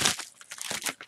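A crinkly plastic mail package is pulled and torn open by hand, a burst of loud crackling at the start followed by irregular bursts of crinkling and rustling up close.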